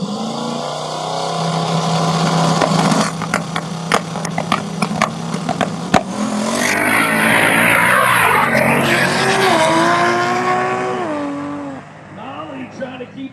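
A Toyota Supra drag car with a three-speed automatic roars off the line and screams through its gears, loud and close, then fades away over commentary from an announcer.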